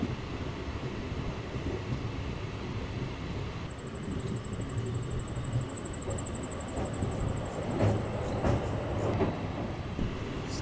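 A local train running on rails between Bankura and Mainapur, heard as a continuous low rumble with faint clickety-clack from the carriage and a thin high whine joining midway, steady throughout with no talking.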